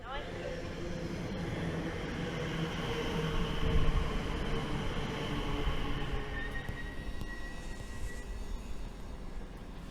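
An Elizabeth line train bound for Heathrow Terminal 4 rumbles along at speed, a steady loud roar with rising and falling whine and faint squeals, heard from inside the carriage.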